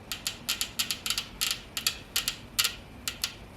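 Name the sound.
Toyota Prius C fuel injector clicking, pulsed by a 12-volt battery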